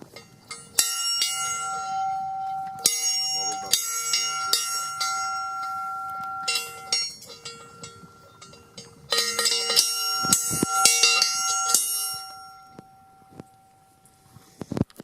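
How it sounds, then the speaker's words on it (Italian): Bells ring atop a mountain bell-tower summit in the Dolomites, struck repeatedly in irregular clusters with long sustained metallic tones that overlap and decay, loud and close, with no talking. "Devo imparare a suonare le campane."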